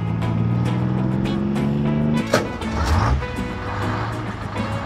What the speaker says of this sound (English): Tank truck.